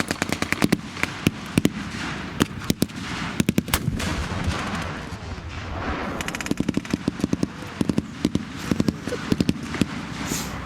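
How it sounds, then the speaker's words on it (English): Heavy artillery and gunfire in a battle: dense volleys of sharp, loud blasts in rapid irregular bursts over a continuous rumbling roar, repeating throughout without pause. "the heavy artillery has made its way to this site of this battle"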